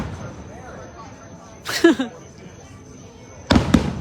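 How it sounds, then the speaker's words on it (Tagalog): New Year fireworks bursting outdoors: two sharp crackling explosions a couple of seconds apart, moderately near, with faint crowd noise and a low murmur in between. "Nanood tayo ng fireworks ngayon."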